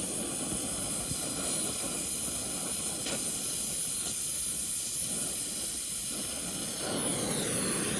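Steady hiss and crackle from steel being welded for a pyramid sculpture, a continuous close buzzing roar with no talk, slightly louder toward the end.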